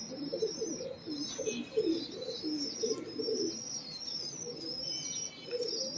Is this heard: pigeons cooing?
yes